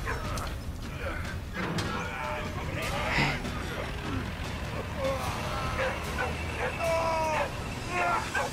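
A dog in the World War I video game Valiant Hearts yips and whimpers among creaking mechanical game noises, its cries short and repeated at moderate loudness, with occasional talk.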